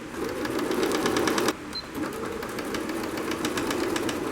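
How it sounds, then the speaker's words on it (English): A sewing machine stitches the side panel of a footstool in a steady, fast mechanical chatter, close and loud, with a short pause and shift in speed midway as it reverses and carries on. "Hold all of those together like that and sew to the bottom of the side panel."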